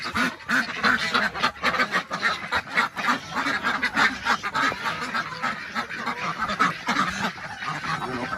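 A flock of Pekin ducks at a mountain farm quacks continuously, loud overlapping honking calls close by with no pauses.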